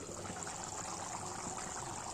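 Prawn curry boiling in a covered pot, a steady soft bubbling and hiss, faint and continuous with no talk.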